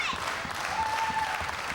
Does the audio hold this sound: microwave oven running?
no